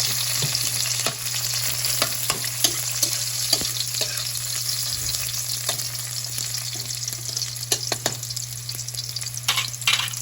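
Garlic and onion fry in cooking oil in a pan after tofu, giving a loud, steady sizzle with scattered crackles and pops throughout, with no talking.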